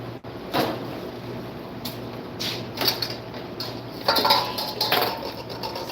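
Peanut candy mixture being stirred in a pot, with irregular scraping and metallic clinks of a utensil against the pot and a few sharper knocks, close and without talk.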